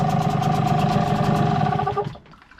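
A Hangkai 6hp T6 two-stroke outboard engine runs steadily at close range with a buzzing mechanical drone, then cuts out abruptly near the end, leaving quiet behind.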